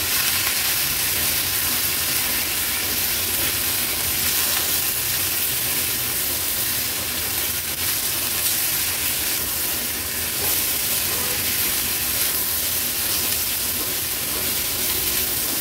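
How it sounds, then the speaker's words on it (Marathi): Chopped snake gourd stir-fries in a hot tempering with turmeric for a no-onion, no-garlic vegetable dish, giving an even, unbroken sizzle and hiss that holds at the same level throughout. "आता व्यवस्थित आपण फोडणीवरच ही भाजी परतून घ्यायची आहे।"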